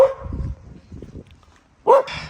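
A dog barking outdoors near houses on a hilltop street in Poland at dusk, a few short close barks and yips in quick succession with a louder final bark, no talk.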